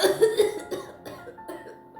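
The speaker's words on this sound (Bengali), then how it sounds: "কাশিটা খুব বেড়েছে" An elderly woman in poor health coughs in a short run of harsh, congested coughs, close and fairly loud, with a few weaker coughs trailing off and no talking.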